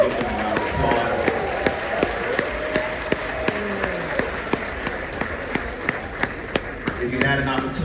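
A crowd at a convention closing ceremony applauds with steady, moderate clapping and scattered sharp claps, a few voices murmuring and cheering underneath.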